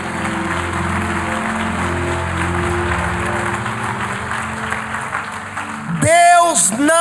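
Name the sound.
congregation applause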